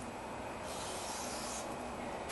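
A brief hiss of aerosol cleaner sprayed onto a Honda Accord's new brake rotor for about a second, then a sharp click near the end over low background noise.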